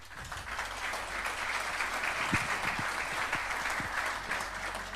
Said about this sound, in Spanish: Por favor, les pido un aplauso.